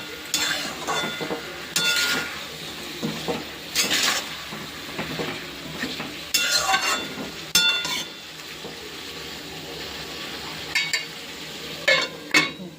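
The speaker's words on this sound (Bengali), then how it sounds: "জিরেটা দিয়ে আর একটু কষাবো" Cumin sautéing in a pan with tomato and meat in a home kitchen, with a soft sizzle under repeated scraping and clinking of a spoon against the pan at irregular intervals.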